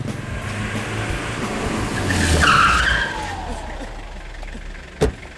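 A car pulls up and skids to a stop with a rising tire squeal, followed a couple of seconds later by a sharp knock, with voices in the background.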